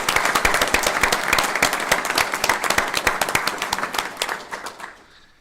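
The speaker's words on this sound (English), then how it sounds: "Let's give them a good round of applause" An audience at a state criminal justice board meeting gives outgoing board members a round of applause, with lively, crisp clapping from many people that thins out and fades away at the end.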